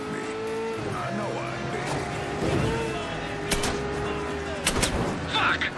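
Sharp gunshots crack over a steady engine rumble and moving traffic during a Mafia 3 video game cutscene, loud and close, with a few shots clustered near the end.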